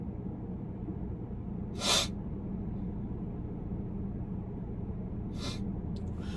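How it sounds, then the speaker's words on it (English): A sharp, breathy sneeze bursts out once over a steady low background hum, and a softer similar burst follows a few seconds later. "I'm about to sneeze."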